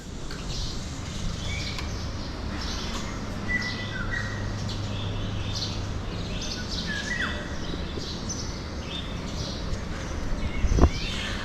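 Pet pigeons on a rooftop on a cold morning, with scattered chirps and calls at moderate distance over a steady outdoor background hum, plus soft shuffling and a brief louder knock near the end.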